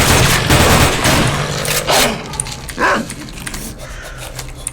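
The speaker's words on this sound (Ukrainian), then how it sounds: "Собачки! зомби собак!" Zombie dogs bark a few times amid a dense, noisy S.T.A.L.K.E.R. game soundscape with rapid bursts like gunfire, fairly loud throughout.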